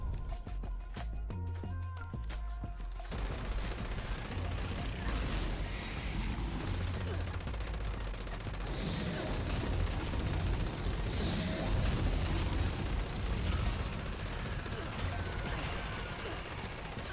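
Rapid bursts of light machine gun fire in Fallout 76 crackle through a dense, busy game mix, with a person talking over the shooting throughout.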